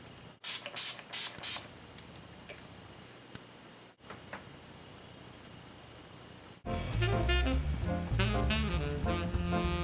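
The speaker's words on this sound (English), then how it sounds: "apply my Urban Decay De-Slick Setting Spray onto my face" A few short hissing bursts of setting spray misted onto a face near the start, then quiet, followed by loud music filling the rest.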